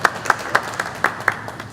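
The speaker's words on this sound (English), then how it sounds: "I'll clap for that." At an exhibition opening for decoys and medical inventions, brief rhythmic clapping gives about seven even claps in under two seconds, sounding like only a few hands.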